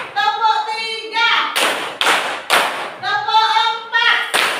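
A classroom clap-count game: sharp group claps land in short bursts between sung or chanted counting voices, alternating voice then claps in a steady rhythm.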